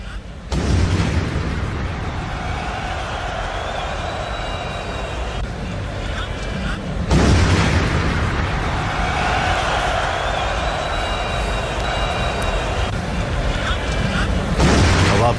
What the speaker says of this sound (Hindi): एकाएक मैच के अंदर इस धमाके की आवाजें सुनाई देती हैं।